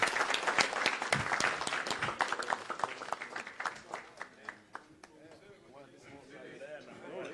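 An audience at a football club fundraising event bursts into loud applause that gradually thins to scattered claps, with a voice talking over the start.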